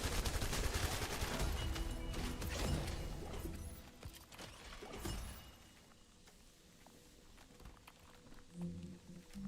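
Dense bursts of gunfire and shattering impacts in the video game The First Descendant, loud and busy for the first few seconds, then thinning to scattered shots and mechanical clatter at lower level.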